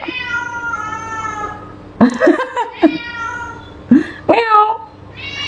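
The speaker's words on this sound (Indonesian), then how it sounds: "Gue dimarahin sama kucing, Jo." A cat meows loudly in a series of drawn-out, wavering cries, with shorter sharp calls in between, close and clear against a quiet background.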